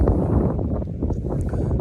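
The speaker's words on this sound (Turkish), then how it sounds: "Rüzgar var. Fazla sizin kulağınıza parazit yapmayacağım. Rüzgar sesi gelebilir." Steady wind buffeting a microphone outdoors, a low rumbling roar that stays constant throughout with no clear voices.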